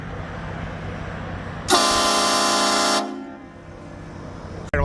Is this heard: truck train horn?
yes